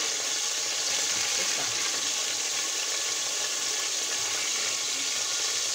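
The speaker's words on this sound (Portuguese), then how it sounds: "Aqui a gente vai pegando de 3 em 3, dependendo do tamanho da panela de vocês, e vai selando." Beef rolls sear in hot oil in a pan, making a steady, loud hiss of frying and sizzling that runs continuously with no voices over it.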